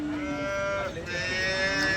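A cow at a cattle market in Sangola moos loudly and close by, one long drawn-out call that rises and holds, with no other voices.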